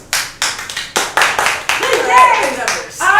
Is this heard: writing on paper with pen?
no